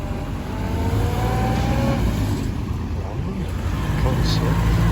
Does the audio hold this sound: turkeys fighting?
no